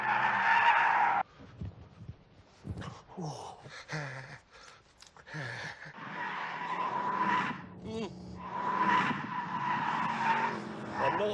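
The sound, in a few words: car braking and tires skidding in The Grand Tour Game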